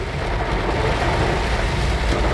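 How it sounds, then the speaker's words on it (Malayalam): Steady rain falls in Chalakudy, a dense, even hiss of drops with no breaks and no voices, heard close and fairly loud for the whole moment. "തൃശ്ശൂർ ജില്ലയിലും മഴയ്ക്ക് കുറവൊന്നുമില്ല, അത്യാവശ്യം നല്ല മഴ ഉണ്ട്."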